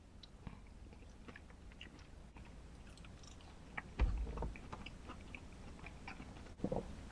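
Someone chews a KFC Zinger Tower Box burger and chips close to the mic, with soft, quiet munching and a few faint crunches over a low background hum.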